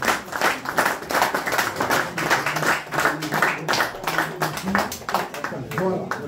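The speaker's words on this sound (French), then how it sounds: "je vais nous demander d'applaudir" Guests at a surprise birthday party clapping with uneven, irregular claps, mixed in with chatter and voices throughout.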